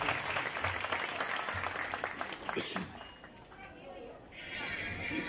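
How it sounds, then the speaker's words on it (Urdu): Audience applause at a church gathering, a sustained wash of clapping from a crowd that fades slightly midway before swelling again. "سو آپ کی بھرپور تالیوں میں آج کے وائس مبشر دانش کو دعوت دوں گا"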